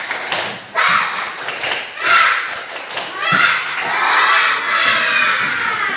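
A group of second-grade children chanting and clapping in rhythm together in a classroom, loud and lively, with bursts of shouting and thuds from a busy room.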